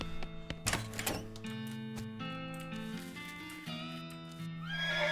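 A horse in the video game West of Loathing whinnies over soft hoof clops, with a sustained musical tone in the background; the neigh is clear and close.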